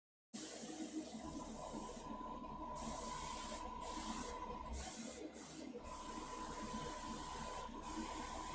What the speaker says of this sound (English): you can see the airbrush really does, it makes pretty quick work of a lot of these fades